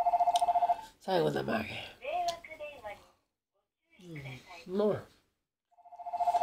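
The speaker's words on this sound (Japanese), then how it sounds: "また迷惑電話か。" A telephone rings with an unwanted nuisance call, its pulsed electronic trill loud and close at the start, then silent while someone talks, before the ringing starts again at the end.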